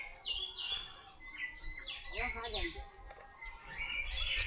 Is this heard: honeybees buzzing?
no